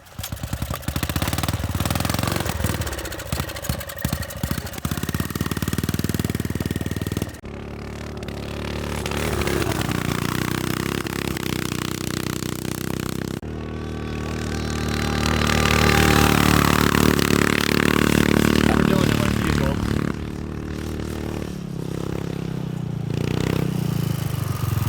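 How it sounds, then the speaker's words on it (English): A 390cc lawnmower engine swapped into a Little Tikes toy car runs loudly throughout on sand dunes, sputtering and revving in uneven surges, cutting out briefly and picking up again, close and harsh. "Come on, Dylan, it's a lawnmower."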